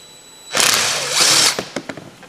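Power drill whirring as it backs a bolt out of a 1950s 3hp Briggs & Stratton small engine, a loud burst lasting about a second followed by a few short clicks and knocks.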